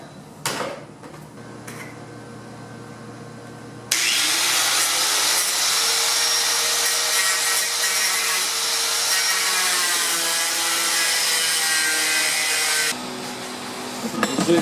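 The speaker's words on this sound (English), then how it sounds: "I think I'm going to have to get the cutoff wheel and actually make it cut" A cutoff wheel grinds through the plastic radiator shroud of a Dodge Viper GTS RT10, a loud, steady, close-up whine lasting about nine seconds between quieter moments of handling.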